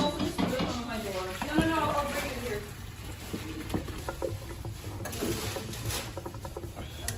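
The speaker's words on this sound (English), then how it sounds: "We drain the pasta now." Cooked pasta for carbonara drained: a spattering, pattering rush of water, moderately close, following a stretch of talk at the start and lasting to the end.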